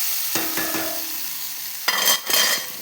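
Elephant foot yam pieces frying in a pan for a Kerala-style chena roast, a steady sizzle with a few quick scraping stirs early on and a louder burst of stirring near the end.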